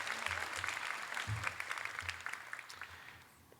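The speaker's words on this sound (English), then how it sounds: "Another round of applause for top HPU student Kai Hokulani" An audience applauding at a university class night ceremony, a dense burst of clapping that gradually fades away.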